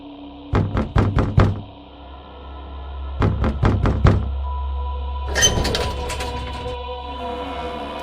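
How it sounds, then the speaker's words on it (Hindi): Knuckles rap on a wooden door of a large house in a forest at night, two sets of four or five sharp knocks close by, then a scraping, rattling sound. "मैंने दरवाजा खटखटाया।"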